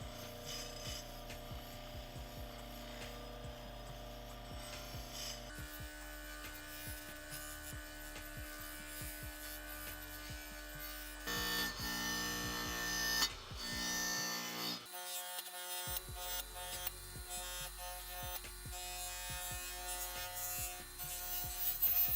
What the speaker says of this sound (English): this Scotch-Brite wheel is really working some magic on the crankcase